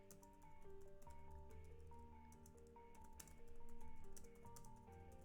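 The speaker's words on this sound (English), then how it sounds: "Hold on, I'm typing something in chat." Computer keys clatter in quick, irregular clicks under steady tonal background music while someone types a chat message.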